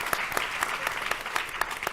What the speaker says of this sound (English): I think we have to give another hand clap for Reverend Wheeler right now and for his amazing testimony